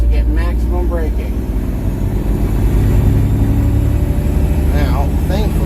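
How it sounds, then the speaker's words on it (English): A big truck's engine drones loud and close as it engine brakes and downshifts, with brief rising throttle blips between gears over a constant rumble, while someone talks throughout. "I'll left foot brake it, flip the throttle to get each gear to get maximum braking"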